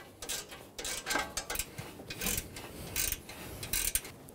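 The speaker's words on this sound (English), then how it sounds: "Install the bolts. Snug the bolts down." Bolts are tightened on the AC condenser line fittings of a 2007-2011 Toyota Camry 2.4L I4, giving a steady run of close ratcheting clicks and rubbing metallic mechanism noise with no talking.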